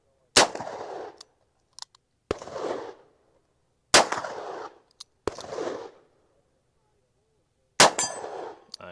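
A 1967 Colt Python revolver loaded with 142-grain rounds fires single-action, and each sharp gunshot is followed by a ringing clang from a steel target. Five loud shots come at uneven intervals, with quiet gaps between them.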